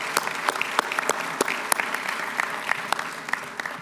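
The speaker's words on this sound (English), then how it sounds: "let's have a round of applause for the families" An audience at an accepted student day welcome applauds the families, a steady patter of many hands clapping in a large room, moderately loud and sustained without talk.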